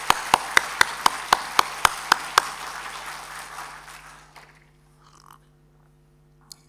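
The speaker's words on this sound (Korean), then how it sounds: "감사 박수 한번 드릴까요?" A church congregation gives a short round of applause: a series of about nine evenly spaced, sharp claps that stop after a couple of seconds, followed by quieter room sound and faint shuffling.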